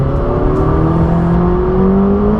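A McLaren 600LT sports car, 592 horsepower, accelerates hard with a loud, steadily rising engine note, heard from inside the cabin without talk.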